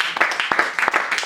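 A church congregation claps loudly and close during a Sunday worship service, quick uneven claps in a brief burst with voices mixed in.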